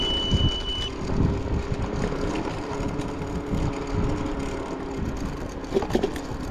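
A Circooter Landturbo e-scooter with a 1000 watt motor climbs a small hill outdoors, giving a steady low drone and road rumble with a thin whine and a brief high tone early on, no talking.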